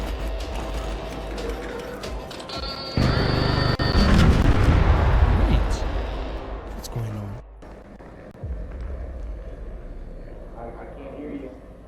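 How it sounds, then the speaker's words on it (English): Video game battle with deep booming explosions and rumbling blasts, loudest in the middle and then fading to scattered distant thuds, with a player's voice talking over the action. "Because I'm hearing a lot of explosions."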